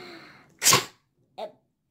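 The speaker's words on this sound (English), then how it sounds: "I'm gonna sneeze." A single sharp, close sneeze bursts out, followed moments later by a short faint vocal sound.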